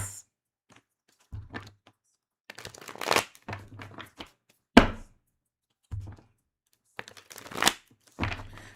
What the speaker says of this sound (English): Reed, I'm shuffling them up for you